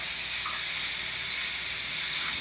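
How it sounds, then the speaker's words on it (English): A splash of water hits vegetables in a hot pan for chicken curry, setting off a steady, close sizzling hiss that continues evenly throughout. "So just grab some water and put it in here like so. You hear it kind of sizzle there."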